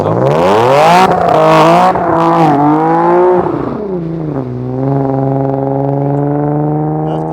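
Car engine of the Nissan VQ and HR families revving hard and loud up close, with rising and falling pitch sweeps before settling into a steady high idle drone.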